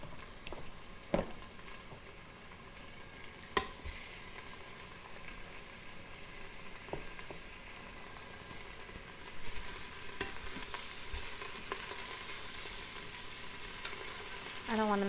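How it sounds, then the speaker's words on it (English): Pieces of beef stew meat browning in an Instant Pot give a steady sizzle and fry throughout, with occasional scrapes and stirring knocks, and the sizzle grows louder and brighter toward the end. "So I'll put the pieces in here so it can start browning"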